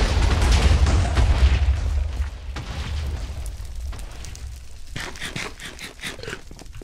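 A Minecraft explosion destroys a quarry, a heavy low rumbling blast that rolls on for several seconds and slowly fades, with later crackling debris pops.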